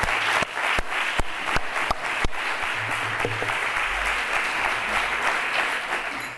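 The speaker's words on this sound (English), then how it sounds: "I would like to suggest that we give the organization committee a big applause for what they" A conference audience applauds the organizing committee, a dense, sustained round of clapping with a few sharp, distinct claps close by early on, steady and moderately loud throughout.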